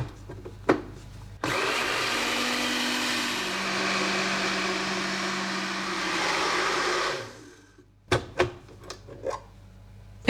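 Blender fixed to a kitchen worktop mixing a sauce, running as one steady loud whir for about six seconds, then stopping, followed by a few clicks and knocks.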